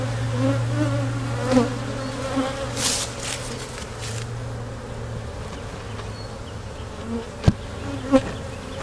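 A honeybee swarm settles into a hive, a continuous close buzzing hum with a few brief knocks and taps near the end.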